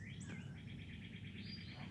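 Outdoor morning birdsong: a clear repeated chirping call sounds steadily at moderate distance over constant low background rumble, with no speech.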